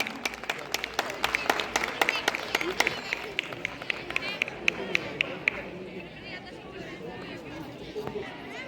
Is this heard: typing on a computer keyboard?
no